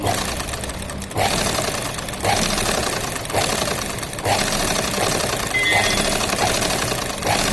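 A sewing machine stitches thread piping onto a blouse lining, running in steady mechanical bursts with brief pauses between passes, fairly loud and close, with no talking.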